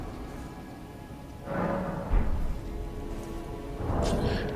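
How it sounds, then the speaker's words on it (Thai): Rain falls with rumbling, swelling gusts of storm noise that sound like thunder or heavy downpour, building in two louder waves over a steady background hiss. "ฝนกำลังจะมาใช่ไหมแล้ว เสียงมันจะดังแน่เลย"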